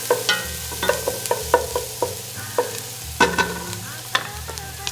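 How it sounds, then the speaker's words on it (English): Onions and garlic sweat in a pan over a soft sizzle while a utensil stirs and scrapes in a steady run of close, repeated strokes. "We're not looking to caramelize these onions, we're just gonna soften them and sweat them off a bit."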